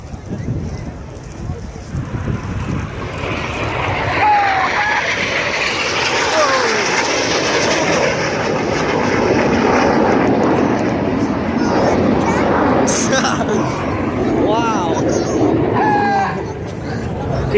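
Red Arrows jets fly opposition barrel rolls at the Yeovilton air day: a loud, sustained jet roar that swells and sweeps past, with crowd noise and wind around it.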